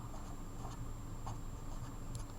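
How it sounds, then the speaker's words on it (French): Pen writing by hand on paper during a unit-conversion lesson, a soft continuous scratching with small taps and strokes, faint and close, with no talk over it. "Donc j'écris"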